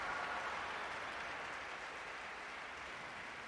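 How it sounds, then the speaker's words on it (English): Spectators at the Dota 2 International 2021 esports tournament yell and applaud in a continuous, fairly faint roar that fades slightly over a few seconds, heard on its own without talk. "You can hear those crowd yells, though."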